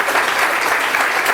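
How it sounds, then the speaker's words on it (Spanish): Audience applause at a pediatrics society lecture on the neurobiology of autism, a dense, loud, even wash of clapping with no pauses. "un fuerte aplauso al doctor Gastón Smith"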